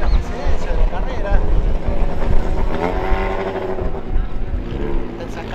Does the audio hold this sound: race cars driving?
yes